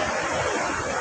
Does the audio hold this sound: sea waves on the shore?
yes